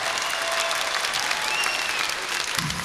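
Audience applause for a singer at a television channel anniversary show, a dense, lively burst of clapping from a large crowd with faint whistles over it.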